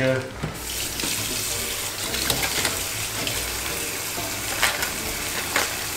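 A kitchen tap runs steadily into a sink while a pan is rinsed during home meal prep, with a continuous splashing hiss and a few louder splashes, close by and with no talk over it.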